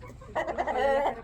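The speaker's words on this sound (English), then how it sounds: "That's la a rooster." A rooster on a Costa Rican farm lets out a short, close, loud clucking call that swells after a brief pause and holds for nearly a second, with no talking around it.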